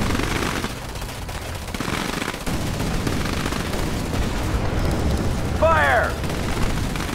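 Weapons fire from units in the real-time strategy game Command & Conquer 3: Tiberium Wars, a dense, continuous rattle of gunfire and booms throughout, with a brief voiced unit response rising over the battle noise near the end.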